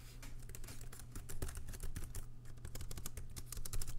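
Steady, rapid typing on a ThinkPad E15 laptop keyboard, close up, with a continuous patter of light key clicks over a low electrical hum.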